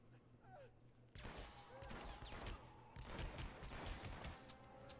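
Gunfire in the stealth action game Hitman Absolution, a burst of rapid shots that begins about a second in and runs on as dense, loud cracks and crackle to the end.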